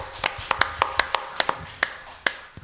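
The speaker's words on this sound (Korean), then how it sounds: "하나님께 영광의 박수." A church congregation claps in praise, a sparse run of sharp, distinct hand claps with irregular spacing, close and fairly loud, about a dozen strikes over a few seconds.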